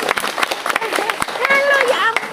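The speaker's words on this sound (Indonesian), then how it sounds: "Kita beri tepuk tangan semeriah-meriahnya." An audience at a cultural discussion event claps, with sharp individual hand claps scattered through the clip while voices call out and speak over them.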